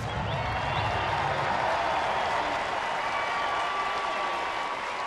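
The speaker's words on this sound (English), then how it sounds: "the fans who are here, another standing ovation for Torrey Hunter" A crowd at Angel Stadium gives a standing ovation during a baseball game, with sustained, dense applause and cheering that carries steadily from a distance throughout.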